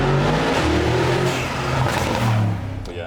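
Mercedes G63 tuned to 740 hp with a full Akrapovic exhaust, revving loudly and steadily close by, a deep throaty engine roar rising and falling over about three seconds with no talk.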